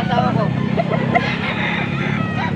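Roosters crow at an open-air market in Angeles, Pampanga, a few short calls rising over a busy crowd with steady talk and a low rumble of traffic and bustle underneath.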